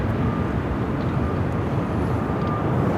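An airliner takes off from runway 7 left at Phoenix Sky Harbor, its engines giving a steady, broad roar that holds at an even level throughout with no speech.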